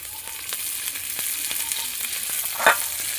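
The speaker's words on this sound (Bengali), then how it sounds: "এখন ভাজাটা হয়ে এসছে, আমি ওপর থেকে কিছু তেল ঘুরিয়ে দিলাম।" Bitter gourd and potato fry in oil with a dense, steady crackling sizzle throughout, plus light ticks and one brief scrape of a utensil near the end.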